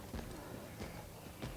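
Heavy, slow footsteps of a hulking pursuer stalking through a corridor in Resident Evil 2, a few dull thudding steps, faint and muffled at a distance.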